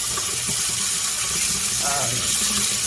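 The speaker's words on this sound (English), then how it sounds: "I let the water run" Tap water runs steadily over canned chickpeas in a sink, a constant close hiss and splash that lasts the whole moment.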